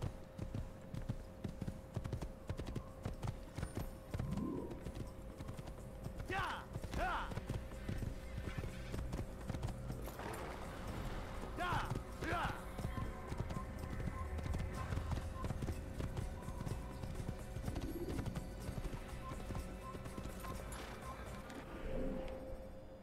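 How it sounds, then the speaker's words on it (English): Horse hooves in Assassin's Creed pound in a fast galloping rhythm for a long stretch, with a whinnying call and a voice talking over the steady drumming. "Here's my horse."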